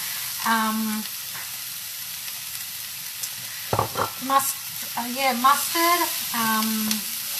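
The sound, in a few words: diced green and red capsicum frying in a pan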